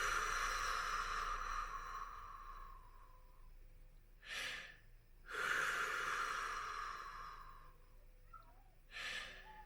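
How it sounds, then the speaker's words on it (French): Three forceful exhalations in a breathing exercise, each a short, breathy rush of air, the middle one longest, separated by quieter gaps over a steady background hum. "vous soufflez à fond."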